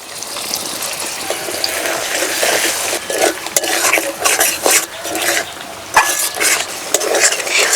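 Yogurt being stirred into a fish curry masala over a low flame, with wet scraping and squelching strokes that grow louder and more rhythmic midway, over a soft background sizzle.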